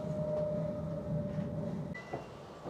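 A train in the Netherlands rumbles steadily along the rails with a low droning hum and a faint tonal whine, then a couple of soft knocks near the end.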